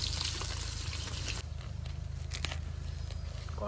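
Freshly caught mirik river fish fries in a pan, giving off a soft, continuous crackle and sizzle with a few brighter pops, fairly quiet and without talk.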